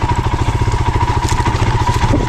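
A Royal Enfield Himalayan 411 single-cylinder motorcycle chugs along a muddy trail, a close, loud, steady thumping exhaust pulse with a clattery mechanical edge and no voices over it.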